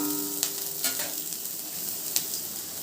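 Cooked basmati rice stirred and fried in a pan for garlic rice, a steady close sizzle with light scraping stir strokes and no talk.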